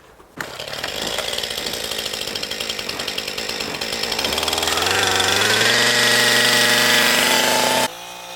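A chainsaw runs loud and close while limbing and girdling a standing tree for firewood, its steady ragged snarl revving higher midway and cutting off abruptly near the end.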